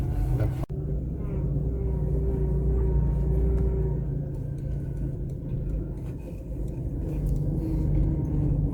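Car driving slowly along a muddy road near an abandoned leper colony in Larnaca, Cyprus, a steady low engine rumble heard from inside the vehicle with a brief knock near the start.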